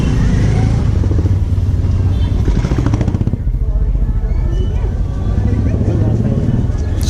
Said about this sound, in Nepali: बढी नै मोटरसाइकलको आवाजात छ यहाँ